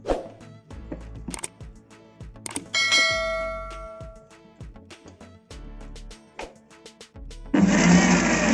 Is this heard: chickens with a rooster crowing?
no